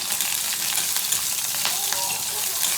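Cumin seeds and green chilli pieces sizzle in hot oil for a fasting-day Navratri dish, giving a steady, close crackling hiss with a few faint sharper pops and no voices.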